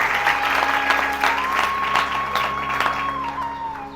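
An audience at a devotional katha recitation breaks into applause, a dense, moderately loud patter of many hands clapping that continues steadily for a few seconds, with a faint sustained tone underneath.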